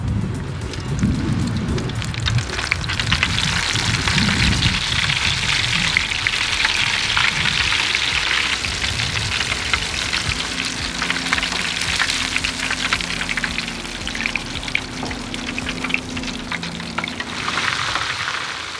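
Shrimp deep-frying in peanut oil heated to 350–375 degrees on a Blackstone griddle, a loud, steady crackling sizzle that runs unbroken throughout, with a faint low hum beneath and no talking.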